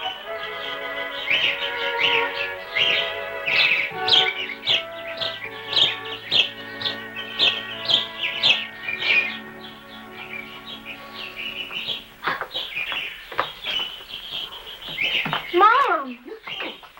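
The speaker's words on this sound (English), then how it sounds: "pesky birds with their singing." Birds chirp and sing with rising and falling calls in a 1957 television comedy, mixed with music-like tones and voices throughout, ending in a burst of sweeping chirps.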